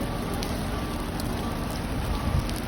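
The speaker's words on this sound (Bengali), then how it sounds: "এই যে বারিশ অনেক বৃষ্টি হচ্ছে কাজের সাইডে কাজ বন্ধ" Heavy rain at a work site in Saudi Arabia, a dense and steady roar of downpour hitting surfaces close by, loud and unbroken.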